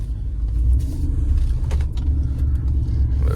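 A car fitted with a ported throttle body, idling at a track and given light blips of gas, producing a low rumbling engine sound with small rises, close by and with no talk.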